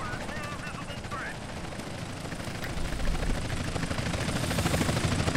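Police helicopters in a video game whir steadily beneath rattling bursts of gunfire, growing louder toward the end, with a voice speaking over the game sounds.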